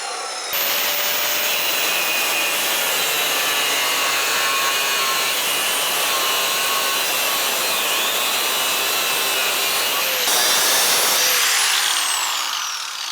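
A power saw blade cuts steel scrap for a grinder rack in a fabrication shop, a loud, steady, high-pitched whine running almost unbroken for about twelve seconds with a brief change in pitch near the end before it winds down.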